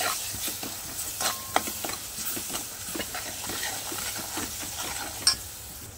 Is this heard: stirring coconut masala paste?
yes